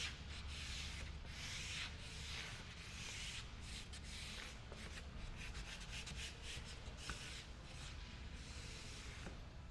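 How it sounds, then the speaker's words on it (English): A squeegee is pressed hard across a flag decal on a Toyota Tacoma side window, making quiet repeated rubbing and scraping strokes close by. "Now we make sure that the flag is fully adhered onto the window by squeegeeing hard."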